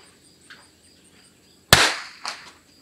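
A Christensen Arms Ranger 22 rifle fires a single .22LR shot at a 100-yard outdoor range, a sharp close crack with a short decaying tail and a brief echo, against a quiet background.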